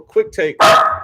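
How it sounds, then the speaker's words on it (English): A dog barks sharply at a delivery person, one loud close bark cutting in right after a short stretch of speech. "No, that's my dog."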